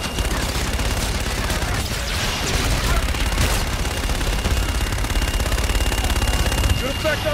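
Dense, continuous automatic gunfire in the sci-fi shooter Call of Duty: Infinite Warfare, a loud steady barrage with heavy rumble underneath and radio-style voices talking over it.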